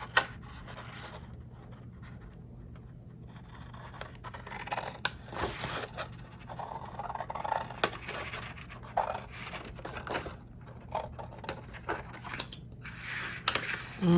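Scissors snip through cardstock along a score line for a mini album card box, a string of close, crisp cutting strokes with a faint voice in the background.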